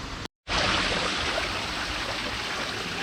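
Water rushes steadily from a waterfall and stream at a palm-fringed lagoon in Thailand, a loud, continuous roar that follows a brief moment of silence.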